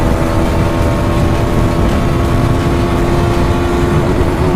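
A Bajaj Xtreme 250R motorcycle engine drones steadily at high speed in fifth gear, a loud continuous roar with wind rush that holds level throughout, with no talking.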